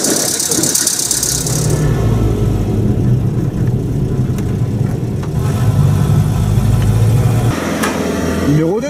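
A Renault 4L engine idles steadily after its carburetor is tuned for ethanol, with a close mechanical rattle and a high squeal over a constant low hum throughout.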